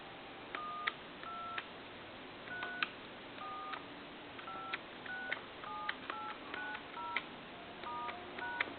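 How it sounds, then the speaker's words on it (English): Touch-tone dialing beeps on an Italian telephone, a quick irregular series of short two-tone presses over a faint steady hiss, with no talking. "dial some numbers here."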